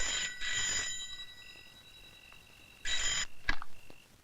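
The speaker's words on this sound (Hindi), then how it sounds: "ले, आ गया तेरे बाप का फोन। जा उठा" A telephone rings in two bursts of bright, metallic bell tones separated by a short quiet gap, with a faint click and thump after the second ring.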